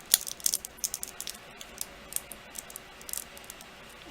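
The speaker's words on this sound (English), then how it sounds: "Then I'm going to crumple it." Angelina film, a thin iridescent plastic sheet cut for a polymer clay craft, crinkled by hand into a ball: a dense run of sharp, dry crackles and snaps, close and fairly quiet, with no talking.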